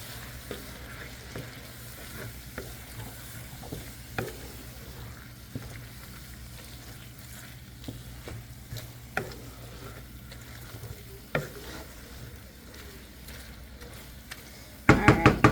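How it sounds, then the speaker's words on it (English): Soy curls being stirred in buffalo sauce in a pan, giving a quiet low sizzle with soft scraping and scattered clicks, followed by a louder clatter at the very end. "Make sure all those soy curls are coated in the buffalo sauce."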